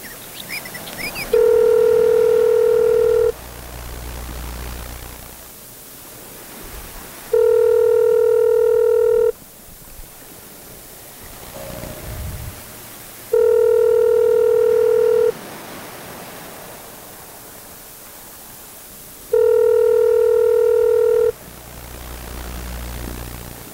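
An outgoing telephone call gives four loud, steady two-second tone bursts at even intervals, each followed by a stretch of faint hiss and line noise.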